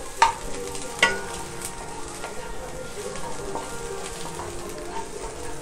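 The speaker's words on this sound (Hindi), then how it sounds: "अब इसमें हरी मिर्च मैं डालूंगी काट के जो रखी थी 6 पीस। डाल करके फ्राई इसी तरह से कीजिएगा।" Chopped green chilies fry with browned red onions in a pan for restaurant-style dal makhani, giving a steady close sizzle with a couple of sharp stirring clinks near the start and light scraping throughout.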